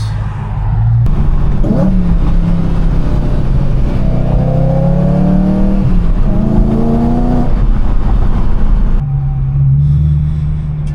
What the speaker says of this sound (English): So this is probably the last day that you're gonna hear it sounding with the cats.